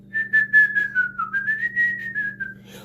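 A person whistles a single, clear, sustained melodic line close by. The pitch wavers slowly up and down for about three seconds over a faint low hum.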